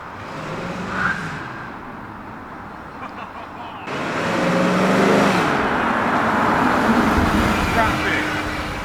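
A BMW E38 7 Series accelerates from close by, its engine and road noise swelling loudly after a short chirp, with people talking over it.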